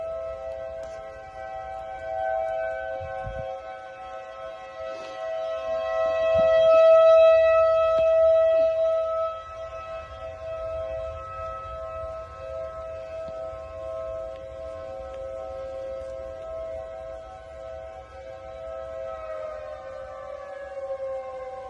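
Civil defense tornado sirens wail steadily in Bowling Green, Missouri, their sustained rising and falling tones carrying from a distance and swelling louder mid-clip before settling, with no talking over them.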